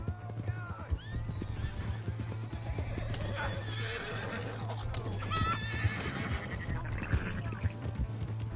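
A horse neighs and whinnies amid clattering hooves in the video game Red Dead Redemption 2, over a steady low hum and busy game sounds, with brief voices in the mix.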